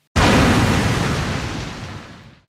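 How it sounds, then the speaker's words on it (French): A single loud blast goes off suddenly, breaking rock in a cement quarry, its broad roar decaying over about two seconds. "L'explosion fragmente la roche et fait avancer le chantier."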